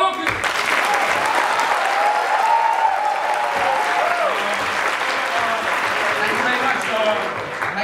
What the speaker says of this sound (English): Please, a round of applause for all of you.